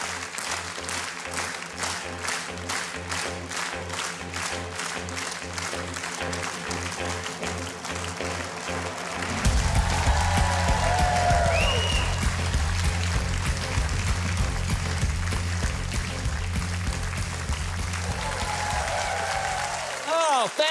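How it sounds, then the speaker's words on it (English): An audience at a political event claps along in a steady, rhythmic beat, loud and continuous, with music joining partway through and voices calling out over the clapping. "Yeah, that means clap along"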